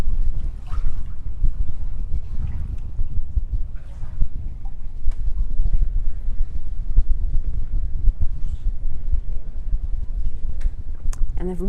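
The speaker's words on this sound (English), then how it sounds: "We can hear the water, we can hear the breeze," Water and breeze out on a bay, heard as a steady low wind rumble with soft washing water and faint higher flutters throughout.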